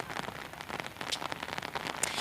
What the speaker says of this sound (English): it actually just started to pour rain again